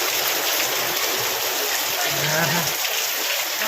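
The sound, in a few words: heavy rain and falling water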